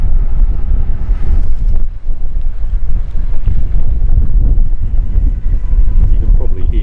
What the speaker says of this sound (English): it is beginning to get a little bit windy out there.